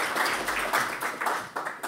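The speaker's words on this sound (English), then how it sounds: "But for now, a big round of applause" Conference audience applauding, a dense steady wash of many hands clapping at moderate level throughout, with no voices over it.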